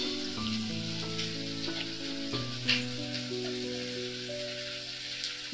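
Whole spices sizzle in hot oil in a pan, a soft, continuous crackling hiss that sits under music playing throughout.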